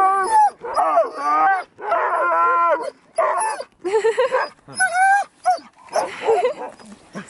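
Alaskan husky sled dogs bark, yip and whine in repeated close, loud bursts, vocal calls overlapping one another with brief gaps between.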